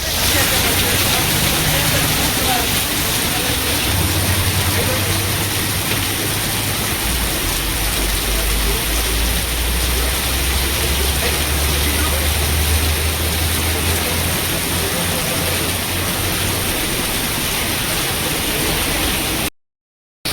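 Heavy monsoon rain pours outside near a Mahakal temple in Jharsuguda, a dense, loud, unbroken hiss filling the whole stretch with a low rumble beneath, cutting off abruptly at the end.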